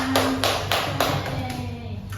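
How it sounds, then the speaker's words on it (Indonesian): Classroom students clap for classmates during a school science lesson, a few sharp, evenly spaced claps that soften and fade out toward the end, with a low murmur behind them. "Berikan tepuk tangan untuk temannya."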